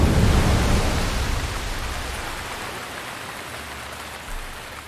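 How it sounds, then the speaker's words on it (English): Rain pours in The Legend of Zelda: Breath of the Wild, a broad hissing wash with low rumbling that slowly fades as the shower eases, no voices present. "it looks like it's not raining much anymore"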